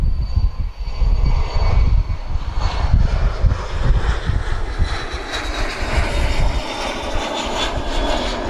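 A Cessna Citation business jet rolls for takeoff at Faro Airport, its engines roaring loud and steady, swelling into a broad rushing whine that holds throughout.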